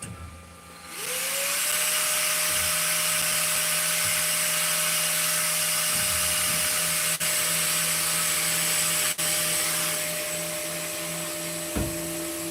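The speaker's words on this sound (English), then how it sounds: "So that's one of the major downfalls of this printer, is it is insanely loud." An FLSUN S1 3D printer runs loudly with a steady, broadband mechanical whir and fan noise, a sustained tone rising as it starts and holding throughout, with no talking.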